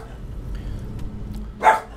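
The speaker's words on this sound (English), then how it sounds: "She can go bark downstairs." A pet dog named Luna gives a single short bark near the end, loud and close, over quiet room noise with no talking.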